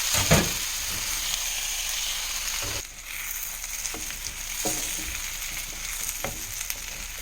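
Potatoes frying in mustard oil for a Jain meal give a steady, close sizzle and crackle with a few soft stirring knocks, no voices over it.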